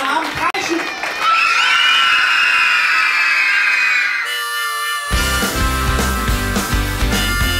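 Children shrieking and cheering together, a loud sustained crowd of high voices in a song about a day at Olderdissen animal park, cutting abruptly into music partway through.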